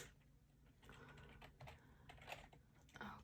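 Quiet, irregular tapping of fingers on a computer keyboard, bursts of keystrokes close by in a hushed room.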